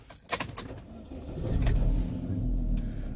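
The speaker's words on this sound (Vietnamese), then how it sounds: "sau đây thì em sẽ khởi động chiếc xe lên như quý anh chị nhé" A 2010 Chevrolet Cruze with an automatic gearbox starts up: a few short clicks and rattles, then the engine catches into a steady, smooth low idle rumble that is close and alone.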